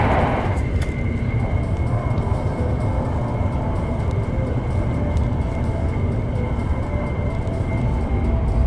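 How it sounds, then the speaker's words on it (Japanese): Hokuriku Shinkansen train rushing at high speed through snow, a steady loud broadband roar with constant low rumble and a faint high whine throughout, heard from inside the carriage with no voices. "他の交通機関が全滅しても運行を続けられる雪に強い新幹線"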